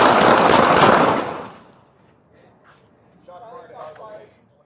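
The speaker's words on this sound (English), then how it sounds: "County shots fired." Deputies fire a rapid burst of gunshots at close range, loud and overlapping for about a second, followed by quieter aftermath with a voice speaking.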